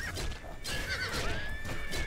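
A horse in the video game Oblivion lets out a loud whinny, with some clip-clop of hooves and game noise around it and no talking.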